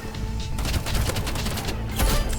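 Pistol gunshots in the Roblox game Rivals, a rapid burst of sharp cracks in quick succession, loud and close, with a few heavier shots near the end and no speech.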